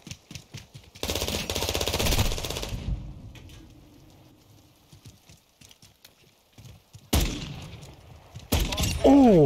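Gunfire from a Call of Duty MW2 one-on-one match comes in loud, dense bursts of rapid shots. A short early volley is followed by quieter scattered pops, then sharp, heavy bursts return near the end.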